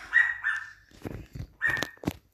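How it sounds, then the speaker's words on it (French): A dog gives a few short, high-pitched yips and whines in quick succession, fairly close, with brief gaps between them. "sais pas si vous entendez mon chien aboyer là."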